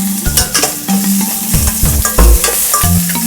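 A spoon stirs upma in a frying pan, scraping and knocking against the metal in a busy, loud, irregular rhythm, with a soft sizzle underneath and no voices.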